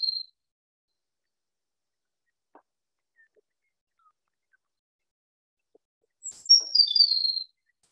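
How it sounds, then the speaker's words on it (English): Song of a Baird's sparrow, an uncommon prairie sparrow: a brief high trill at the start, then near silence, then a louder musical phrase of a sharp note and descending trilled notes about a second and a half long near the end. "this is what the Baird sparrow sounds like."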